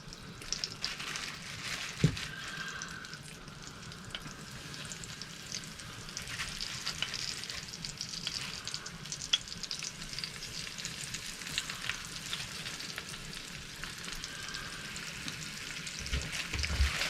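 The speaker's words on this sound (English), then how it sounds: "I'm going to add them, which was the skin and fat side down. They're just going to sizzle gently" Steady gentle sizzling and frying in a pan, continuous crackle with an occasional clink, no talking.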